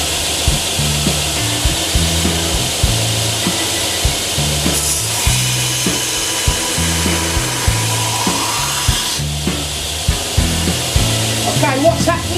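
A belt grinder with a warm belt grinds bevels on a knife blade, giving a steady, continuous abrasive hiss that runs throughout, with a melodic musical backing underneath.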